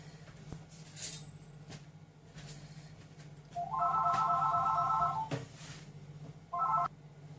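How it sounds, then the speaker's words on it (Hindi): A phone's electronic ringtone sounds in a home kitchen during aloo tikki chaat preparation, with one longer ringing burst and then a short second burst, clear and near against quiet room noise. "मेरा दरमियान में फोन आ गया था, इसलिए मुझे उसको स्टॉप करना पड़ा।"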